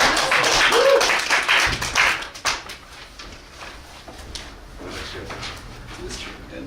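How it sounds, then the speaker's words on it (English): A small crowd at a single-payer movement training session in Detroit bursts into applause that thins into scattered clapping within a few seconds, with people talking over it. "Give them a round of applause for doing"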